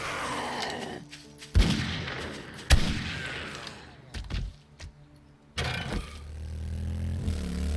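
Sharp, loud pistol gunshots in the survival game 7 Days to Die, a handful of separate booming reports spaced irregularly, each with a short decaying tail and quieter gaps between.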